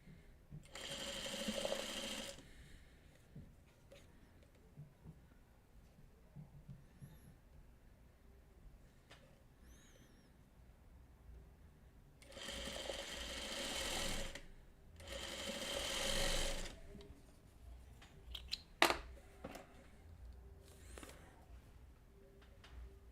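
A sewing machine stitching small crumb quilt pieces together runs in three short bursts with quiet pauses between them, a soft, rapid whirring in a calm room.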